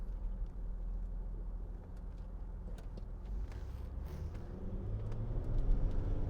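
A 2010 Range Rover Sport 3.0 TD V6 HSE diesel on the move: a steady low engine and road rumble with faint cabin hiss, swelling slightly toward the end, with no voices.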